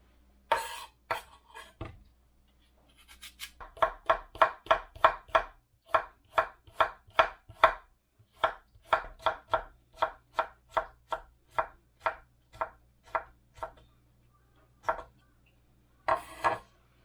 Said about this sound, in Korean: 야채는 다 썰었고요. 자, 이렇게 하면 야채가 썰렸죠.